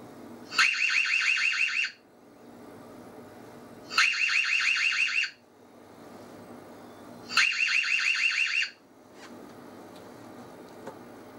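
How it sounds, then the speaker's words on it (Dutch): Alarm siren of an Ezviz Husky Air C3W wifi security camera: three loud, shrill electronic wailing bursts of about a second and a half each, separated by pauses of quiet background. "Als u daarop klikt, gaat het alarm in werking."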